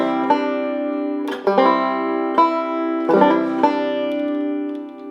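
Melodic banjo picking a slow tune, with clear plucked notes and a quick hammer-on grace note between them, ringing close and sustained with no speech.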